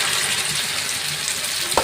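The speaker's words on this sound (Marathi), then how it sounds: "मम्मी आता लॉलीपॉप फ्राय करते" Chicken lollipops frying on a hot pan, a dense close hiss of oil sizzling that holds steady for a couple of seconds with one brief sharper spatter near the end.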